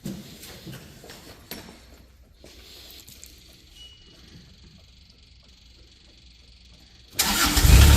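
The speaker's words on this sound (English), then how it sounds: "Hear that Kubota come to life." A Kubota engine on a 2014 Moffett M55 truck-mounted forklift cranks and fires up abruptly at the end, loud and close after a quiet stretch of low background noise.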